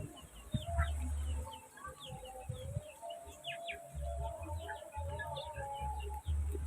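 Chickens cluck and call around a rural Sundanese village in West Java, fairly faint and mid-distance. Other birds chirp, and low rumbling background noise sits underneath.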